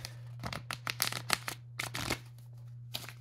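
Assorted birthday cards from a dollar store being handled and flipped, a cluster of crisp paper slaps and rustles close by, then fading to quiet.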